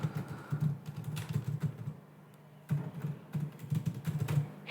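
Fast typing on a computer keyboard, close and clear, with dense clicking keystrokes in two bursts separated by a short pause and no voices.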